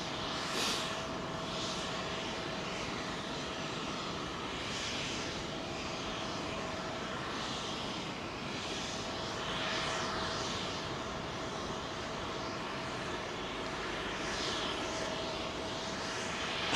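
An airliner on a long-haul departure from Heathrow runway 27L roars steadily through the whole stretch, a broad continuous engine rumble with no talk.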